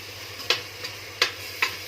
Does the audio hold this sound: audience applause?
no